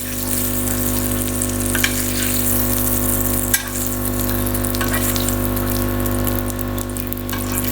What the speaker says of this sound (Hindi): क्रैब्स हमारे पक रहे हैं। बिल्कुल इनको आस्ता आस्ता पका रही हैं। फ्लेम बिल्कुल स्लो है।